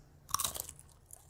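Cheesy Grooves snack crunched in one sharp bite, followed by a few quick chewing crunches, close and loud with no voices.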